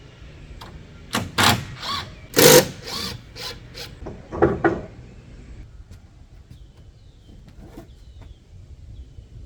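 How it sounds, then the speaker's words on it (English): Temporary wooden braces being pulled off a freshly framed barn-style shed wall: a burst of sharp knocks, creaks and scraping wood in the first five seconds, then near silence with faint rustles. "To start that process, I first have to remove my temporary braces here."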